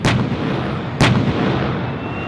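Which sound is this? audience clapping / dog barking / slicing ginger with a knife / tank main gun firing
tank main gun firing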